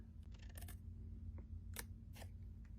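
Scissors snip through paper while cutting a small notch for a paper pumpkin craft, a few quick close crisp cuts at irregular intervals over a low steady hum.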